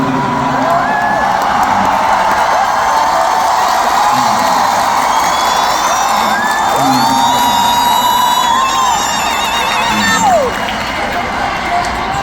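A large concert crowd at a show in Philadelphia roars continuously, loud and dense, with whoops and high shouts rising above the cheering and clapping throughout.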